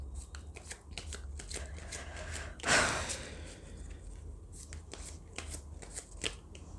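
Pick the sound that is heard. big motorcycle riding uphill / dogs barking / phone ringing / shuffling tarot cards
shuffling tarot cards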